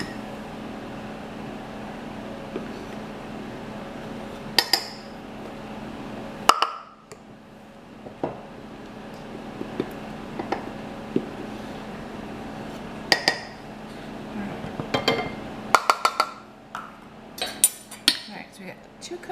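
Cutlery and dishes clatter as a knife is fished out in a home kitchen during buttermilk biscuit making, scattered sharp clinks and clanks in bursts over a low hum, with a voice talking at times.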